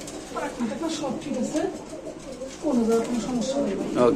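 Pigeons at a Bengali pigeon market, with white beauty birds among those on sale, give soft repeated coos under nearly continuous nearby talk throughout.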